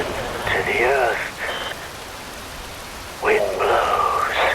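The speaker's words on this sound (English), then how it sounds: "Wind blows, rain falls." Steady rain falls as a continuous hiss throughout, with a voice speaking over it in two bursts, near the start and near the end.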